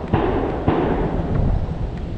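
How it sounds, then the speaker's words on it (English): Guns being fired nearby while fishing outdoors: a few sharp, booming reports spaced apart over a steady rumble of wind, fairly loud and alone. "someone's firing their guns"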